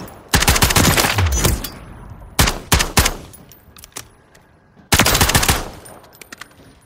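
Russian tactical weapons fire in Call of Duty Modern Warfare III: loud, close bursts of rapid automatic gunfire, a long burst, then short clipped bursts and single shots, another sustained burst and a few trailing shots with brief pauses between.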